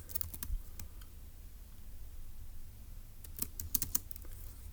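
Close, crisp keystrokes on a computer keyboard while notes are typed up for a Turing Machine logic puzzle, in a quick cluster at the start, a single tap, then another burst near the end, over quiet background.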